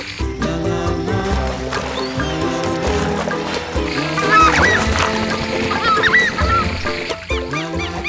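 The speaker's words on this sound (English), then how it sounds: "birds have sharp sight and sound the alarm" Birds sound alarm calls near a group of capybaras: loud, close, repeated honking and quacking cries overlapping continuously, with no talking.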